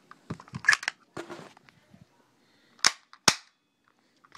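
An HA-117 Glock 17 airsoft pistol fires several sharp, thin cracks with a tinny ring, close up, with handling clicks and rustles between the shots.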